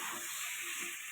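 Boiled potatoes stir-fry with spices in a quiet, even sizzle, faint and close, ending with a small knock of the utensil and no talking.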